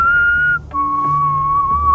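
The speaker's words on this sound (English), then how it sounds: "We kept on trying to whistle to see if anything would come." A person whistles two long steady notes outdoors at Skinwalker Ranch, the first higher and the second slightly lower, clear and close with a brief gap between them.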